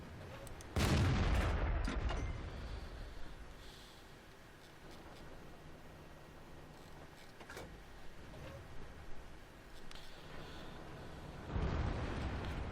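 A loud tank cannon blast opens the scene in the World of Tanks video game, with lighter distant impacts in the middle and a second heavy boom near the end over a low rumbling background.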